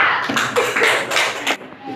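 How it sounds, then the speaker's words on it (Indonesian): Students applaud a classmate in a classroom: a short burst of clapping from several people, close and lively, fading after about a second and a half. "Tepuk tangan buat Fajar."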